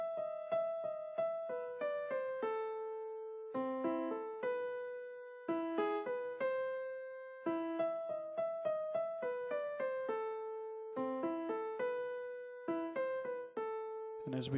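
The right-hand melody of Für Elise is played on a piano, a soft, steady run of single notes in repeating phrases with brief pauses between them, close and quiet, with no voice.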